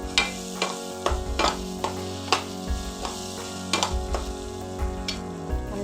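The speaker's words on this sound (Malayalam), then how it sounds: "നല്ല വഴറ്റിയെടുക്കണം." Chicken masala sautéing in a pan, a steady sizzle and hiss of frying under repeated scraping stirs of a spoon against the pan, close and moderately loud.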